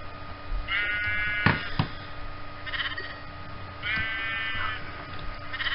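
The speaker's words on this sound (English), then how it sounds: "No, not a baby sheep." Baby sheep bleating in the Minecraft video game: two wavering, nasal bleats a few seconds apart, with sharp game clicks between them.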